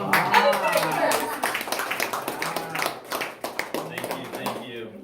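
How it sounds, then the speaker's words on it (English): An audience at a lecture on Chinese herbal treatment research applauds the speaker as he takes the stage, a dense spread of close hand claps running throughout, with a voice talking over part of it. "It's so nice to get that applause at the beginning"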